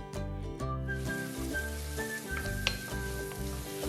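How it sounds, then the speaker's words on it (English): Onions sauteing in vegan butter in a pot over medium-high heat give a steady, close sizzle that runs unbroken for the whole stretch, with no voices. "we're going to add some vegan butter to a pot, medium-high heat, and we're going to add onions"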